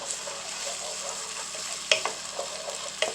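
Soft, steady sizzling of rice frying in a pot for arroz con gandules, with a few light scraping knocks of stirring near the end.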